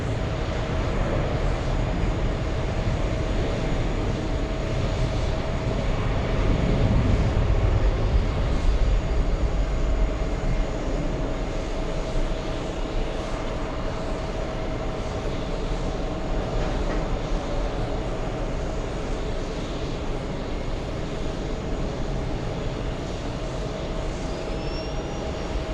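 An American Airlines jet heading to Athens, Greece, heard from an airport lounge in Los Angeles as a steady, loud engine roar that holds evenly throughout with no talk.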